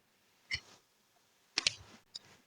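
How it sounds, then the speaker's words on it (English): A few sharp, quiet clicks, one single and then a quick double and another single, sound close against near silence, like taps in the Pixellab app. "click on check icon"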